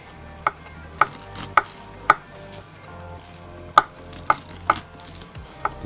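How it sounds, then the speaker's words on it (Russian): A knife finely chops garlic on a cutting board in sharp, separate knocks, about nine strikes at an uneven, unhurried pace, close by and with no talking. "Нарезаем чесночок. Меленько."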